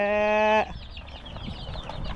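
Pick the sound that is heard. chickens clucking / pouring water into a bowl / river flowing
chickens clucking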